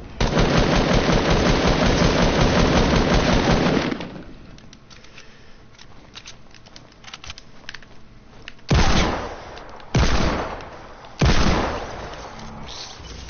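Hand cannon gunfire in a video game: a loud sustained burst of rapid shots, then a quieter stretch, followed by three separate heavy blasts.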